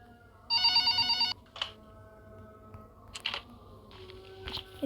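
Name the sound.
telephone ringing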